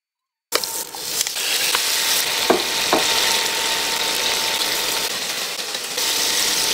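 Butter sizzles steadily in a hot pan, a loud continuous hiss beginning abruptly and broken by a few light clicks and taps.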